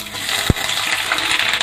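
Radish pieces dropped into hot oil for a radish and green chilli pickle, a sharp splash and thud followed by steady, bright sizzling that carries on loudly to the end.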